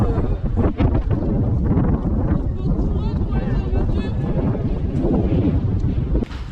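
Gusty wind and rain buffet the microphone with a steady roar while a crowd of tourists chatters in the background outdoors at the Palace of Versailles.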